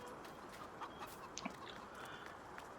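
Chickens cluck in the farming video game Purbeck Valley Farms, giving a few soft, brief clucks over a faint steady background hiss, with no one speaking.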